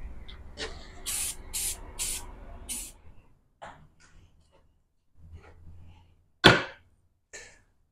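Spray paint is fogged on in light coats, heard as a few short, close hissing bursts in quick succession, then sparse quieter sounds with a sharp knock near the end.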